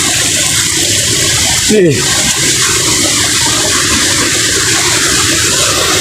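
Steady broad rush of a river flowing beside a collapsing footbridge on a solo wild boar hunt in Indonesia, continuous and fairly loud throughout, with a brief spoken word partway through.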